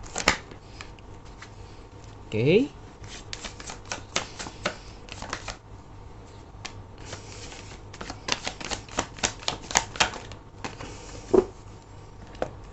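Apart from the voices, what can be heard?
tarot cards being shuffled and drawn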